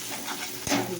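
Food sizzles in a frying pan after being seasoned with salt and chili powder, a steady close crackle with a brief stirring scrape partway through, alone without voices.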